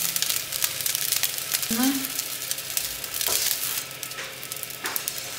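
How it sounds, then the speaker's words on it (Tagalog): An egg frying sunny side up in a pan, steady crackling sizzle close by throughout, with a few sharp spatula clicks and brief muffled voice fragments underneath. "magluto tayo ng itlog. Sunny side up."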